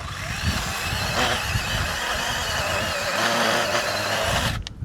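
A Dakkın battery-powered pruning saw cutting through a thick olive tree branch during hard pruning, producing a steady motor whine with a grinding cutting texture that cuts off abruptly at the end.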